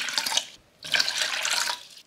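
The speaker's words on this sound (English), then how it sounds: "we're gonna fill the bucket up with 4 cups of water" Water from a tap filling a bucket for a slime kit, a strong hissing splash that briefly stops then resumes steadily, close and loud.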